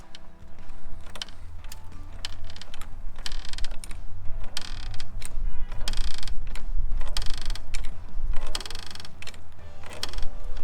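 A rusty Ford LTD donor car with a 351 Cleveland, dormant for 15 years, is jacked up off the ground with steady ratcheting clicks and creaking metal, continuous and fairly close.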